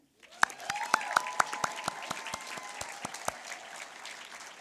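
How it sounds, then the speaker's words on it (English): Audience at a graduation ceremony claps steadily for the graduates, a dense round of applause with a few sharp individual claps standing out near the start, then continuing evenly throughout. "It is done, so we can clap for them."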